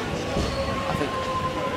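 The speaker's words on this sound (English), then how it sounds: "Pumping out the trains real quick today." A train at Jolimont station makes a steady, continuous rumble with a faint tonal hum running through it, fairly close and even in loudness throughout.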